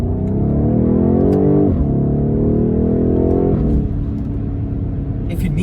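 A 2020 BMW M850i xDrive V8 revs hard and loud through its gears, its engine note climbing in pitch, dropping at each shift around two and four seconds, then settling into a steady drone near the end.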